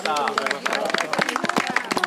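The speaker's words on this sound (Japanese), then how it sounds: "こちらの講師の4人の方ですね拍手で終わりたいと思います" A small group claps for the instructors at the end of a snowshoe nature-observation walk, a quick burst of close hand claps mixed with a person speaking at the same time.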